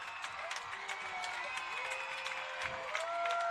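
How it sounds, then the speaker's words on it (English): A crowd at a varsity high school football game between Lexington and Arlington cheers and stomps in the stands, a continuous roar with scattered sharp thumps and claps, loud and enveloping, swelling slightly at the end. "feel the stadium shaking right now just from all the stomps, the knocks from the excited Lexington community"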